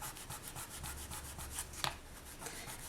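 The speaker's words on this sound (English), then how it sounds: "you just need to go over the edges and back and just sand off that metal leaf" Fine 600-grit sandpaper rubs metal leaf off the edges of a polymer clay pendant in quick, even back-and-forth strokes, soft and close, with a faint tap partway through.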